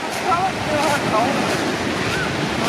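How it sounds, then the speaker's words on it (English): Sea waves wash onto the shore in Kent, England, with a steady rushing surf and heavy wind buffeting the microphone, while faint voices may be present underneath. "That's what happens when waves are coming in."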